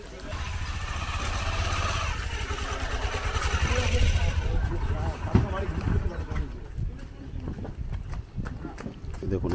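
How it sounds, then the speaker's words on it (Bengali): A motorcycle's engine rumbles steadily while the bike is carried across a full monsoon river on a country boat near Mousuni Island, with people talking over it. "দেখুন এইভাবে বাইক পারাপার করা হয় এখানে"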